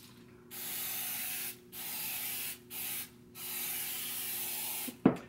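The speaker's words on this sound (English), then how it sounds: "So once again, I'm going to start by spraying the vessel." Cooking spray hisses onto a Sassafras long covered baker, a clay bread vessel, in several separate bursts, close and fairly quiet, followed by a sharp knock at the end.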